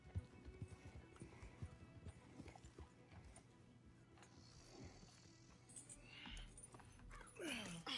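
Hooves clip-clop from horses in the open-world western game Red Dead Redemption 2, a steady irregular patter of steps with jingling tack and a brief whinny near the end, under in-game chatter.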